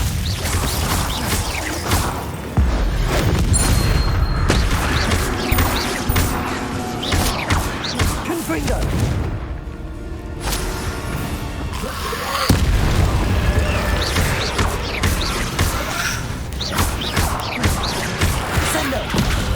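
Loud, continuous fiery explosions from the Confringo blast spell in the Hogwarts Legacy video game, with booming crashes, whooshes and impacts layered densely across the whole stretch, briefly dipping near the middle.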